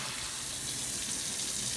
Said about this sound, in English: You rinse until the water coming out off the beans is clear.